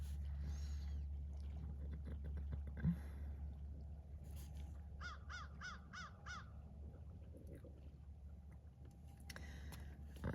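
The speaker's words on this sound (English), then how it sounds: "So many birds flying up the river." Crows caw in short bursts of four or five calls, moderately distant, over a steady low hum of wind or engine beside a river, with a few other bird sounds scattered around.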